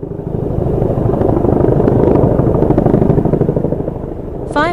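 A firefighting helicopter thunders close by, its rotor beating in a fast, steady chop over a loud engine drone that swells and then eases.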